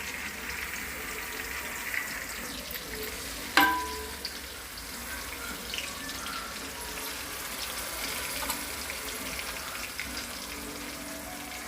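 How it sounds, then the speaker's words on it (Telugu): A spice paste sizzles in a hot pan for chicken fry, a steady close hiss broken by a sharp clatter early on and occasional stirring scrapes. "హీట్ ఎక్కింది ఫ్రెండ్స్. దీంట్లో అయితే మనం ప్రిపేర్ చేసుకున్న పేస్ట్ మొత్తం వేసేసుకున్నాం."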